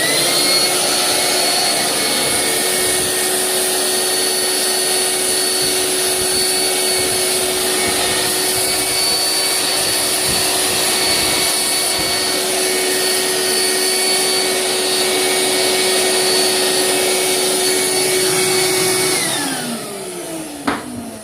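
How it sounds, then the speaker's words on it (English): A shop vacuum runs steadily and loudly up close, sucking borax off a turkey fan mount, with a constant motor whine and airflow roar that cuts off near the end as the motor winds down. "I'm just going to suck as much of this borax off of here as I can"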